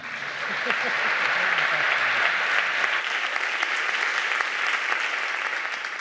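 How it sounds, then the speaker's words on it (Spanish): Audience at a round-table plenary session on scientific entertainment breaks into sustained applause, dense and even for several seconds before slowly thinning, with a brief voice near the start. "Un aplauso."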